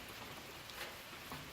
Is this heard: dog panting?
no